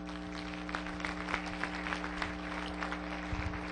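Scattered applause at an international education gathering, faint and somewhat distant over a steady low hum, with a few sharper claps standing out.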